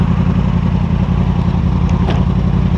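A Yamaha R6 motorcycle engine, a 2015 bike, runs close and loud with a steady mid-pitched throb and faint clatter, no talk over it.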